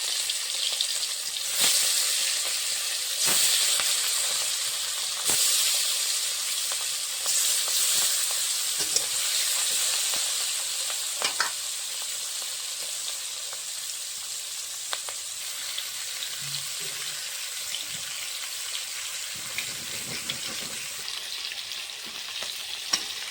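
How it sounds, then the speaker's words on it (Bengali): Marinated rohu fish pieces frying in mustard oil give a steady, loud crackling sizzle, with occasional sharper pops and a few brief utensil clinks. "মেখে রাখা মাছগুলো দিয়ে দিয়ে দেবো তেলে"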